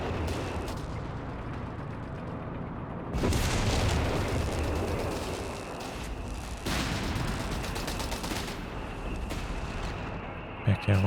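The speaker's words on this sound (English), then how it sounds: "Oh, there's that recon artillery, in fact." A recon artillery barrage in Company of Heroes 3 sends heavy booming shell impacts, two standing out sharply, over a constant rumbling din of battle at moderate loudness.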